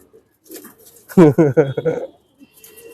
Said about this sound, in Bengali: এই কবুতরটা খুব সুন্দর এবং ঠান্ডা কবুতর